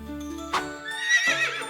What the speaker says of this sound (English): Horse. The horse is fast and active.